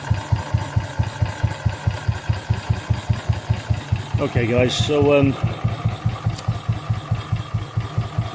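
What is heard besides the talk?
BSA B31 motorcycle engine idling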